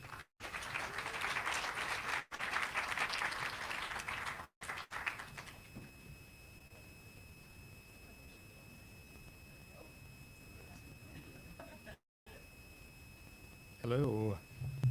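An audience at a games talk event in Edinburgh claps in welcome, a brief dense burst of applause that fades into quiet room noise, with a voice briefly heard afterward.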